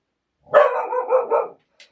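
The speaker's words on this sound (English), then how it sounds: "She stops barking" A single dog barks once, a close, loud, slightly drawn-out bark with a wavering tone, followed by a faint short yip.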